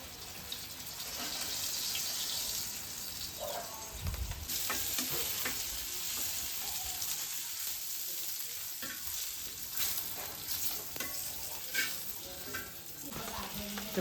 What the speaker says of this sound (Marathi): प्रियंकाने आहे ना इकडे मस्त मासे बनवून घेतलेत आणि आता फ्राय करायला ठेवलेत